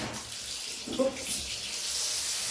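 Water runs steadily into a basin for blocking a double crochet V-stitch blanket, a close, continuous hiss that swells slightly toward the end.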